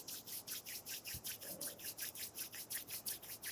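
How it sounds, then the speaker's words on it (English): Palms rubbing together in a calm yoga session, a soft, rhythmic swishing friction repeated about a dozen times at an even pace, close and quiet with no talking. "rub the palms"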